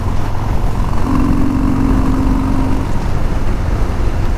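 A 2008 Harley-Davidson Heritage motorcycle riding along, giving a steady, fairly quiet low engine rumble with wind noise that stays even throughout, no talking.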